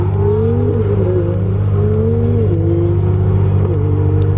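A BMW M2 drives past, its engine revving steadily and loudly nearby, pitch climbing and dropping through gear shifts with a deep exhaust rumble.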